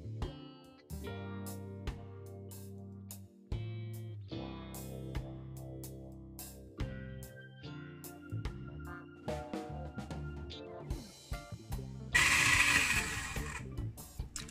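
An electric mixer beats a brown sugar mixture for Jamaican carrot cake, a loud, steady whirring burst near the end that cuts in over background music.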